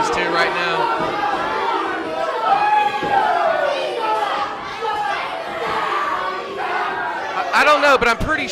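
A wrestling crowd chants "diva" at a tag team, a loud mass of voices with rising shouted calls and chatter, swelling into a burst of cheering near the end.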